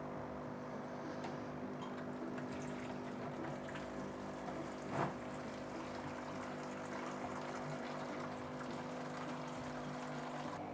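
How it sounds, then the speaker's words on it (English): Water runs steadily from an opened valve on a hydroponic RDWC reservoir into a watering can, a continuous close-up trickling flow with a low hum, no voices. "we're just going to open this valve and the water's going to start coming out"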